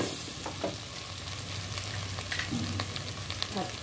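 Garlic paste, ginger paste and ground cumin and coriander sizzle steadily in hot oil over lowered gas heat, a continuous close frying crackle with faint stirring scrapes, no talk.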